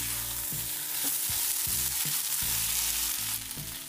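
Vegetables, soya and potato with dill leaves, stir-fry in an open pan seasoned with red chili powder, giving a loud continuous sizzle broken by regular scraping stirs of a spoon across the pan, with no talking.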